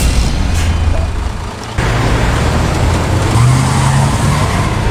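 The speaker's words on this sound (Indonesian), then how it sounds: "truk itu melaju kencang" A heavy truck engine revs and pulls away quickly, a loud rumbling roar with a brief hiss partway through.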